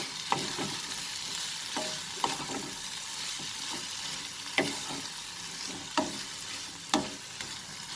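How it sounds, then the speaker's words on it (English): Potatoes sautéing with spices in a pan give a continuous sizzle and fry hiss, broken by repeated close scraping strokes of a spatula every second or so, and no one talks. "We'll saute this potato for 2 minutes in the spices like this."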